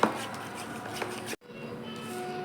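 Urad dal batter for dahi vada being whisked by hand in a bowl, a steady close rubbing and beating texture that stops abruptly midway, then continues more quietly.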